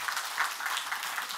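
A church congregation applauds during a Sunday morning service, a brief, fairly faint patter of many hands clapping together.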